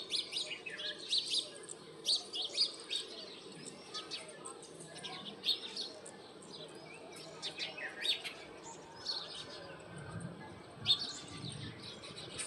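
Sparrows chirp in repeated short bursts, some close and some farther off, across a steady outdoor background with low rumble and faint noise; no one speaks.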